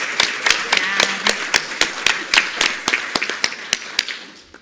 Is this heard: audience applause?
yes